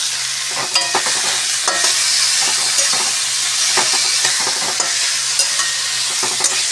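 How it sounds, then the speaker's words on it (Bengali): Star fruit and cherries fry in a pan while being stirred, a steady bright sizzle broken by repeated scraping clicks of the spoon, close and fairly loud with no talking. "নেড়ে চেড়ে দিচ্ছি, নরম হয়ে আসছে।"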